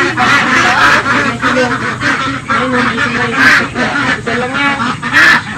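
A flock of ducks at a duck farm quacks loudly and continuously, many calls overlapping close by, with a voice speaking briefly among them.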